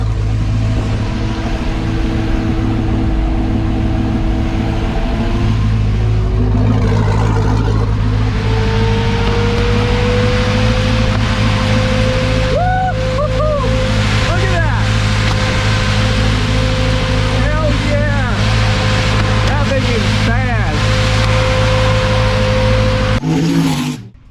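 A brushless Camaro electric cooling fan runs at full speed with a loud, steady roaring whoosh and a sustained whine, broken by brief shifts in pitch and ending abruptly.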